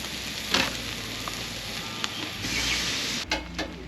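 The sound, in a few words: eggs frying in a pan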